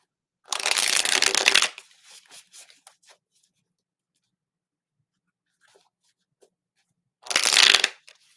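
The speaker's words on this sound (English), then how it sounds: "I'm going to shuffle one more time" Tarot cards being shuffled in two loud, close bursts of rapid riffling, each lasting about a second, with faint card taps and handling sounds in the quiet gap between them.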